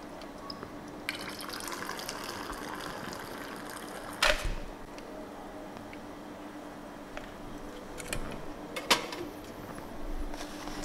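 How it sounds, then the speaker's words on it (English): A brief pour of a beet cocktail into a glass, followed by a few light clinks and splashes over a quiet, hissy room background. "we can pour our cocktail"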